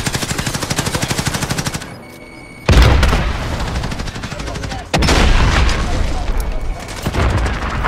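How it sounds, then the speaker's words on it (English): Gunfire and grenade explosions in the video game Warzone: a rapid, steady machine-gun burst gives way to heavy booming blasts and further shooting, loud and close, with voices faintly mixed in. "Good fucking grenades, Tyson."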